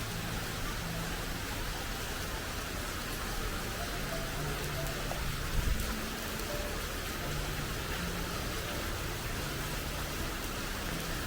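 Steady rain falls on a riverside fishing spot at Binh Quoi, Binh Thanh District, Saigon, Vietnam, making a dense, even hiss that fills the whole stretch at constant loudness, with a faint low rumble underneath and no talking.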